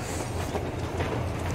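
A train rolls steadily along rails in Metro Exodus, giving a continuous low rumble with faint rhythmic rattling, close and even throughout, with no voices.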